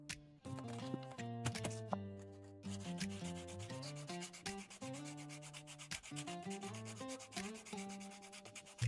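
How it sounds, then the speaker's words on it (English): Rough-grit sandpaper is rolled against a spinning workpiece on a lathe, giving a quiet, continuous rubbing hiss over a shifting tonal drone with no talking. "I'll start with that rough grit and just keep rolling it around"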